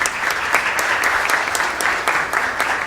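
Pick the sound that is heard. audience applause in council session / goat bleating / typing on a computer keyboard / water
audience applause in council session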